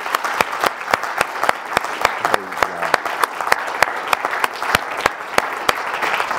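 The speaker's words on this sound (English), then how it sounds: "clap your hands real good right now" A church congregation claps along in a steady, rhythmic beat during a worship service, sharp hand claps repeating evenly throughout with a faint murmur of voices beneath.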